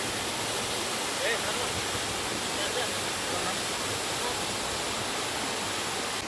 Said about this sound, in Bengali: এখন তো জাস্ট একটা ধারায় জল পড়ছে।